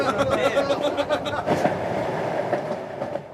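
A train rolls along rails, its carriage sounding a steady rumble with rhythmic clickety-clack over the joints, continuous and fairly loud throughout.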